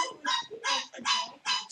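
Close, loud dog yelps in four bright, high bursts, repeated at an even, rapid pace.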